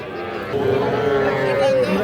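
A Sahiwal calf at the Aftabganj cattle market gives one long, loud moo that swells and holds for over a second against a busy market background.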